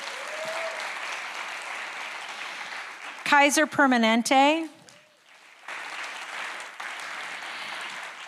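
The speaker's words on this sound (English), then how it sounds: "let's give them a wild round of applause." Steady crowd applause for sponsors at a county-hosted Title IX panel event, briefly interrupted by an amplified voice announcing a name, then resuming at a similar moderate level.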